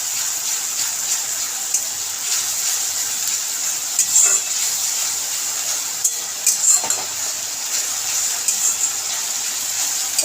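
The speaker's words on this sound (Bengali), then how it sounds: "এটাও একটু এর সঙ্গে ভেজে নেব," A paste of ginger, garlic and green chili sizzles steadily in a pan, a constant hiss with a few faint clinks and stirring scrapes near the middle.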